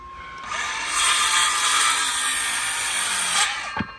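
Hand saw cutting through wood along a marked line, a rapid rasping stroke rising and holding for a few seconds close by, ending with a small knock.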